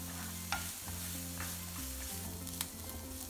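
Chopped garlic cloves and green chillies frying in a pan for samosa filling, a steady close sizzle with a low hum underneath and a few sharp clinks of a spoon against the pan.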